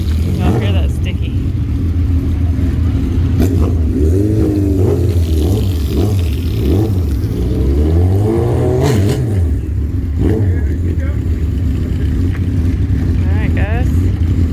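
A 2019 Suzuki Hayabusa motorcycle engine, just after a front sprocket change, revs loudly and close with rising and falling pitch sweeps over a constant low rumble, with people talking over it.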